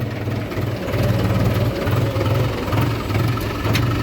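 Mahindra tractor engine running on a road during a tuber harvest, a steady low thudding chug with a rhythmic pulsing beat, close and continuous, without any talk.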